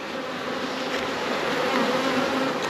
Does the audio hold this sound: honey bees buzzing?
yes